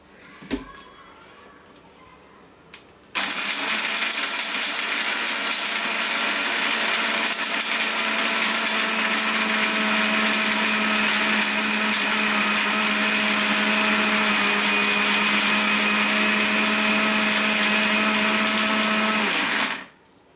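After a few quiet seconds with a couple of clicks, a kitchen mixer grinder starts up loud and whirs steadily for about sixteen seconds, grinding saaru spice powder with dried turmeric root, then cuts off abruptly.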